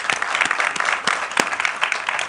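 An audience at a launch event applauds steadily, a dense wash of many hands clapping at moderate volume for a couple of seconds.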